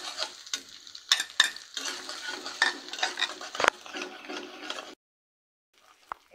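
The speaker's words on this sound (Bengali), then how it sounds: "আদা আর রসুনটা এটার মধ্যে দিয়ে দেবো, দিয়ে হালকা লাল হওয়া পর্যন্ত একটু ভেজে নেব।" Chopped ginger and garlic fry in a pan for a red chilli chutney, a close crackling sizzle with spoon scrapes and clinks that cuts off into near silence near the end.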